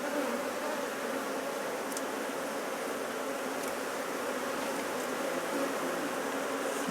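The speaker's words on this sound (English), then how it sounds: "Being queenless, they're not very happy, and they're stinging me because I'm messing with them." Agitated queenless honeybees in an opened hive box make a dense, loud, continuous buzzing drone close by, with a few brief sharper sounds and no talking.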